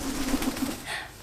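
A pet bird coos softly indoors, a few short low repeated notes close by, faint and alone without talk.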